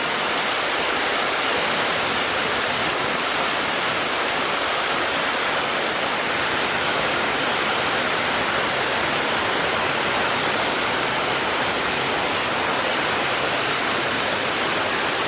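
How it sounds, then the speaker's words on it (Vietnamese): Steady rain falls without pause, a dense, even hiss that fills the whole stretch at a constant level, with no voices or other sounds breaking through. "Mưa được 30 phút rồi nhé mọi người."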